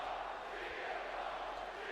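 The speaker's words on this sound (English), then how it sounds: "Crowd's pro Punk." Arena crowd in the WWE 2K25 wrestling game cheering for Punk ahead of a match against John Cena, a steady, dense roar of many voices that holds loud and unbroken without a clear peak.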